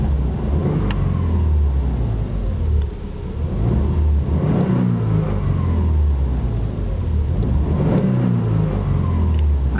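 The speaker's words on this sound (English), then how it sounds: "Revs to about 3000 RPM." A 2005 Subaru Impreza TS sedan with a 1.6 litre boxer engine revs repeatedly, its engine note rising and falling in several smooth surges at moderate loudness with no talk.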